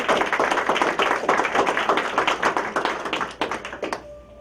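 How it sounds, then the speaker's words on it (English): People at a grand opening clap their hands together in a lively burst of close, crisp claps that continues for several seconds before stopping abruptly. "You all give a hand clap."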